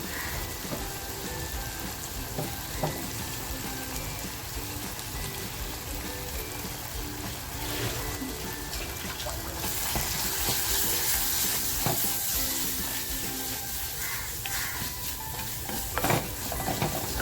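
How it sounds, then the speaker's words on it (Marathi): Ground masala paste for Vasai-Virar chicken poha bhujing fries and is stirred in a pan, giving a continuous close sizzle with scraping stir strokes that swells slightly midway, with no talking. "मसाला असा आपल्याला छान फ्राय करून घ्यायचा आहे आपला मसाला असा छान फ्राय झालाय"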